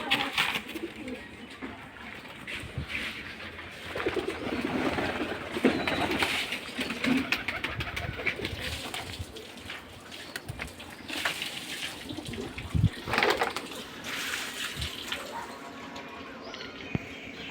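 Pigeons coo in and around their nesting boxes, soft repeated throaty calls at close range, with scattered rustling and handling noises.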